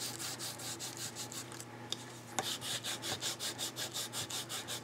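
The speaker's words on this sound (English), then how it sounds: "Then you lay the magazine piece down on it and you just rub." A piece of magazine paper is rubbed by hand over a raised rubber stamp, making quiet, rhythmic scratchy strokes, about two per second after a short pause, close up with no voices.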